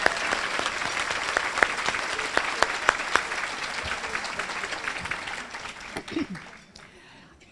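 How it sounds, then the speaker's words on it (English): Audience applause at a Women's Equality anniversary celebration, a steady crowd clapping with sharp individual claps standing out, tapering off near the end with a voice briefly heard. "And now, a round of applause for all of these."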